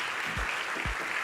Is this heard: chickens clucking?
no